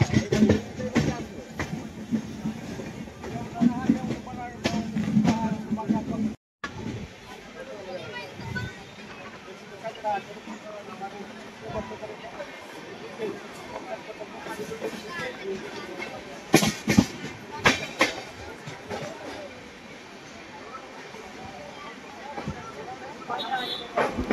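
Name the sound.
12125 Pragati Express train running, Mumbai to Pune, monsoon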